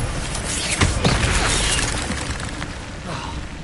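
An Incendio fire spell is cast in Hogwarts Legacy, a loud roaring burst of flame with a few crackling pops, sustained and then fading slightly toward the end.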